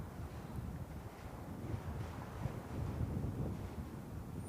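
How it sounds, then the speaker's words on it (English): Wind buffets a microphone at an outdoor cricket match, a low, rumbling roar that surges and swells unevenly throughout, with no voices over it. "There's a lot of wind here. The wind has picked up speed."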